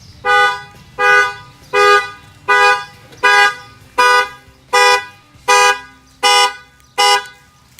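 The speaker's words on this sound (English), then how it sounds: "it will fire off the factory alarm system" The factory alarm on a 2018 Ford F150 Shelby truck sounds loud and close, with nine evenly spaced horn blasts in a steady rhythm and nothing else heard.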